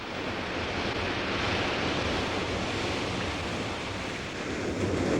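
Steady surf washing onto a black volcanic sand beach in Hawaii, a constant full roar of breaking waves with no pauses, moderately loud throughout.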